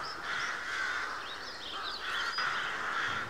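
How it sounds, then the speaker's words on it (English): Several crows caw repeatedly over a grain field, overlapping harsh calls at a moderate distance with a steady outdoor ambience beneath them. "the crows certainly have gotten chatty"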